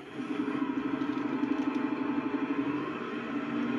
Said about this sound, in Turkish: Bizim dayıoğlu gelene kadar şu traktörü bir çalıştıralım.